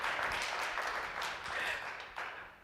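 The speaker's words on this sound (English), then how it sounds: "cue the applause for my making it this far" Audience applause at a TEDx talk, a broad even wash of many hands clapping at moderate volume, swelling slightly and easing off over a couple of seconds.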